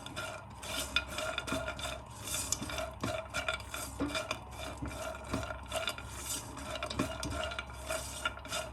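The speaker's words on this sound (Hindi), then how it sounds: "अब हम इनको थोड़ा सा फ्राई करेंगे ताकि इनमें क्रंचीनेस आ जाए।" Vermicelli is stirred as it fries in a pan, soft sizzling beneath repeated rhythmic scraping and rasping strokes of a spatula against the metal, quiet and close.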